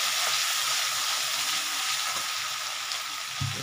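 Crushed garlic fries in a pan of oil for a pabda fish curry, giving a loud, continuous hiss of sizzling with a few faint stirring knocks.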